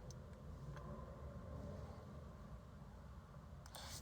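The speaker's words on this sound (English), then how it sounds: "Hanging out in the car." Steady low engine rumble heard from inside a car, a constant droning hum with faint road noise and no voices, holding evenly throughout.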